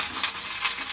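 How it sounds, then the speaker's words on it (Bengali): Curry leaves sizzle and fry in hot oil in a pan while Jhal Suji is being made, a steady bright crackling hiss with no talk. "তারপরে কারি পাতাটা দিয়ে দেব।"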